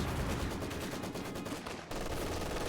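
A Maxim machine gun fires in Company of Heroes, a loud, dense burst of rapid shots in a sustained stream that cuts off abruptly, with battle noise continuing underneath.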